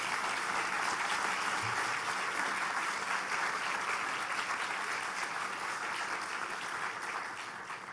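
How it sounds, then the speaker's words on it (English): Audience applause at a university State of the University address fills a large hall, a dense steady clapping that holds for the full stretch and tapers slightly toward the end. "Please give them a round of applause."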